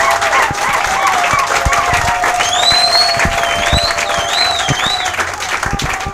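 Audience at a partnership signing ceremony between the Fondation Congo Ma Patrie and CNAP breaks into sustained applause and cheering, steady clapping with whoops and shouts rising over it throughout.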